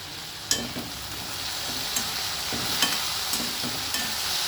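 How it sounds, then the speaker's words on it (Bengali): Onion, garlic, potato and tomato fry together in a pan, giving a steady soft sizzle with a few light scrapes and clinks of stirring scattered throughout, no voices. "পেঁয়াজ রসুন আলু সব আমি আবার একসঙ্গে ভেজে নিচ্ছি।"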